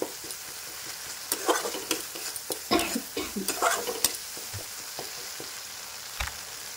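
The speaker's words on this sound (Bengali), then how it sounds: "খুব করে নাড়াতে হবে" Tomato masala stirred hard in a frying pan for a Bengali begun bahar, with a spatula scraping in quick irregular strokes over a steady close sizzle.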